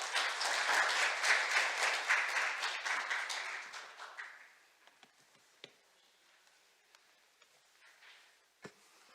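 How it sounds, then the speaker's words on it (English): Forum audience at a Seoul science and technology session applauds an incoming speaker, a full round of clapping for about four seconds that fades to a few scattered claps and quiet room noise. "give him a big round of applause."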